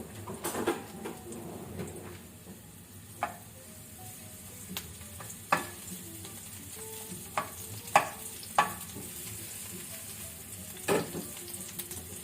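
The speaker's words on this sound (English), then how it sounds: "So first I have to throw the onion" Onion and garlic frying in a pan, a quiet continuous sizzle broken by sharp clacks and scrapes of stirring at irregular intervals, with no voices.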